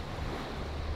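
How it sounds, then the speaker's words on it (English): Waves on Lake Tahoe make a steady, rushing wash of water, blended with wind noise against the microphone. It sounds close and constant, with no voices. "I hope that you can hear some waves noise in the background"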